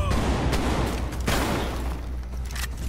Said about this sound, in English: I love when you shoot at me.